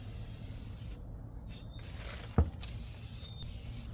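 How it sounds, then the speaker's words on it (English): Brown Rust-Oleum spray paint hisses from an aerosol can in a few short bursts separated by pauses, with a single sharp knock in the middle, heard up close. "Here is the spray paint I'll be using."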